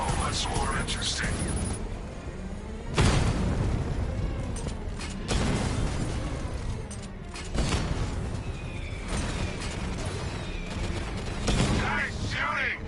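Gunfire rattles through Batman: Arkham Knight in several loud bursts with heavy impacts and booms, separated by short pauses, while voices talk over the combat.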